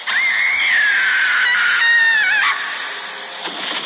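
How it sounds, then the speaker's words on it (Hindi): A woman's loud, sustained high-pitched scream wavers and bends for a couple of seconds, then fades into a weaker tail with no talking. "दरवाजा खुलते ही एक औरत की फिर चीखने की आवाज सुनाई देती है।"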